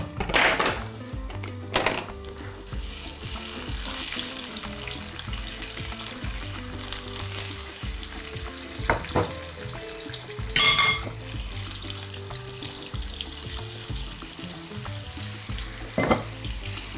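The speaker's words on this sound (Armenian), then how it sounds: "նույն բուսայուղով տապակում ենք քաղցր պղպեղը" Sweet pepper and eggplant frying in vegetable oil in a pan, a steady close sizzle running throughout with a few sharper bursts and stirring clatters.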